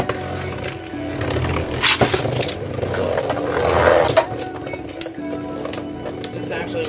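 Beyblade Burst tops are launched and battle in a stadium, producing close, loud scraping, clinking and whirring spins with sharp impacts, while a voice talks over the action.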